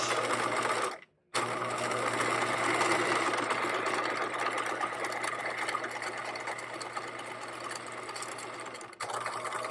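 A sewing machine stitching down the side pocket of a caddy bag runs in a steady, continuous whir. It stops briefly near the start, then resumes and hums evenly at close range, with no voices.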